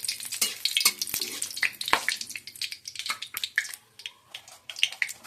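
Fish heads fry in hot oil with dried red chillies and bay leaves for a cabbage dish, giving a busy close sizzle broken by sharp spattering pops and crackles. No one speaks.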